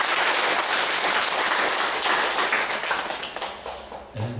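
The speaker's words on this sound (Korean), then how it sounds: "우리 하늘 부모님, 천지인 참 부모님께 큰 박수를 감사의 박수를 보내주시기 바랍니다" A church congregation gives a round of thankful applause, dense and loud clapping that carries steadily, then thins and fades toward the end.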